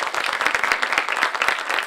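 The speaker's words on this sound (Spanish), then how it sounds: "un gran aplauso para el equipo" Dense, continuous applause from an audience at the launch of a Dominican encyclopedic dictionary, many hands clapping close and loud with no pauses.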